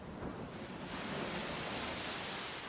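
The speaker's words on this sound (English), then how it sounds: "The sea winds were strong, but not enough to take the edges off the rays of the sun." Strong sea wind gusting over breaking waves on an open shore, a steady broadband roar that fills the whole clip with no voices.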